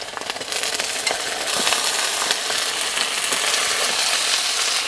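Sliced onions and green chillies fry loudly in a hot pan for chicken curry leaf fry, a dense, steady, close crackling sizzle with no talking.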